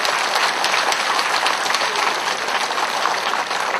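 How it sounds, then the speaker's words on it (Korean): An audience at a local election campaign rally in Ansan bursts into steady applause, dense clapping that holds evenly for a few seconds. "이분들을 위해서 우리 격려의 박수, 감사의 박수 한번 드립시다."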